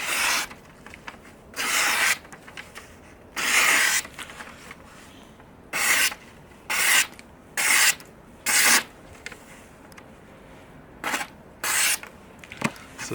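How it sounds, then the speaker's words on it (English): A Spyderco Dragonfly II knife slices through magazine paper in about a dozen short, rasping strokes, each a crisp close burst separated by brief pauses, with no talking. "So slices the magazine fairly well."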